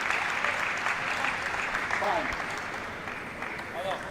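Steady applause fills the hall at a European para table tennis championship at the English Institute of Sport, a dense crowd clapping continuously with a commentator talking over it.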